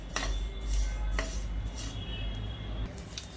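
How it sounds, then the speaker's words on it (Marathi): Sesame seeds dry-roast over low heat in a pan, giving off scattered sharp crackles and light ticks over a steady low rumble, fairly close and moderately loud. "हळूहळू याला चटचट आवाज येत आहे. अजून चटचट आवाज आला की मग आपण याला काढून घेऊया"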